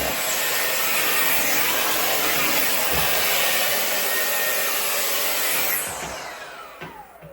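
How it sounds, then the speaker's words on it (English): A Dyson hair dryer blows steadily and loudly at close range while hair is dried, a continuous broadband whoosh that suddenly drops and tapers off near the end as it is switched off. "the reason why I repurchased the Dyson is because I really do believe that it doesn't damage my hair as much as other hair dryers"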